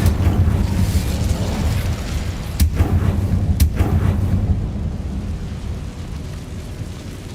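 Incendio fire spell cast in the video game Hogwarts Legacy: a loud, rumbling fiery roar with a couple of sharp cracks, slowly fading away.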